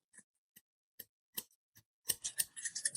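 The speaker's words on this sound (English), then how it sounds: "I'm just going to make sure that I hold my shears level" Grooming shears snipping a Kerry Blue Terrier's coat, a handful of crisp, evenly spaced close cuts that speed into a rapid flurry of snips at the end, with no voices.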